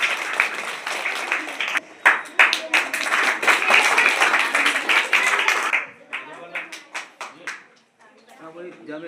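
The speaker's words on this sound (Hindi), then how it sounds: "अच्छा तालियां बजाएं आप लोग" An audience of children and adults claps at a primary school's annual function, a burst of crowd applause that swells and holds for several seconds, then tapers into scattered claps as someone talks over it.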